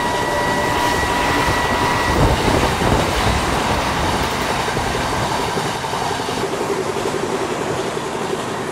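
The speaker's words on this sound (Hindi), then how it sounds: "और भाई आगे से आ चुकी है कोई ट्रेन" A Shatabdi Express train passes in Train Simulator on the Puri–Howrah route, a loud, continuous rumble of railcars with steady clickety-clack and faint wheel squeal, filling the whole stretch without speech.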